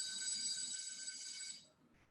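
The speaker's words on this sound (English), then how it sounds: "a school bell ringing." A school bell rings as a continuous bright electric ring that holds steady for about a second and a half and then cuts off, fairly faint against low background noise.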